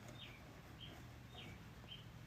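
Birds in a tree right next to a window give faint, high chirps that repeat in a loose rhythm over steady low background hum.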